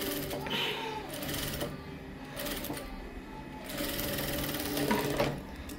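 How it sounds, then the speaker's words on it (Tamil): A sewing machine stitches along the edge of a garment lining, its needle chattering in quick, even bursts with brief pauses between runs, close and fairly quiet. "லைனிங் மேலே கரெக்டாக எட்ஜில் ஒரு தையல் வந்து போடணும்"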